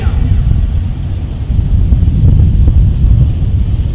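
Ford Ranger drag truck with a NASCAR engine roars loud and close at high RPM during a drag race, a dense steady engine drone that holds and swells slightly, with no clear talk over it.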